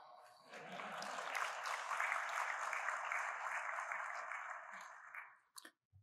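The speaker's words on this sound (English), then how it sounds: "You can applaud." A luncheon audience at the Secretary of the Navy Luncheon during Sea-Air-Space 2022 breaks into sustained applause, a dense, even wash of clapping lasting about five seconds before it tapers off with a few final claps.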